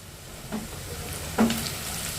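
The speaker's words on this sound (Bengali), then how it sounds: "পেঁয়াজ আদা রসুন ভালো করে এবার একটু ভেজে নেব" Onion, ginger and garlic fry in a pan with a low, steady sizzle, broken by a couple of brief stirring scrapes, heard alone at moderate volume.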